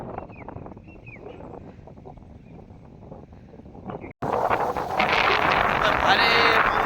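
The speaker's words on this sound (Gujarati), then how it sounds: "ભારે પવન તો ફૂંકાય બહુ જબરજસ્ત" Strong wind blows across village farm fields of mung bean crops. A low, gusty rush is followed by a sudden loud, roaring buffet against the microphone for the last few seconds.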